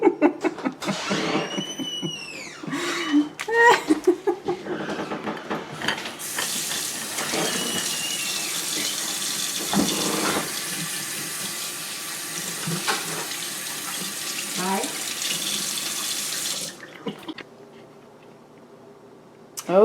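A kitchen tap runs steadily into a sink while hands are washed during holiday baking, a continuous close water rush with occasional splashes and clinks before it shuts off near the end.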